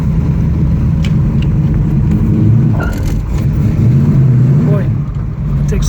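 A 1969 Dodge Charger Hemi R/T with a hydraulic clutch, driven hard on a test drive: a loud, rumbling V8 engine rises and falls through gear changes, with someone talking over it throughout.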